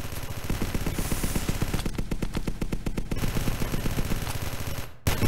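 Rapid bursts of P90 automatic gunfire in the video game ZombsRoyale, loud and continuous with a fast rattling rhythm that runs nearly the whole time before a brief pause and a final shot.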